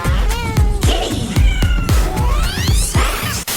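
A loud cat meows repeatedly with rising, wailing tones over heavy, regular thumping beats, as in a comedic song spoof with a strong backing rhythm.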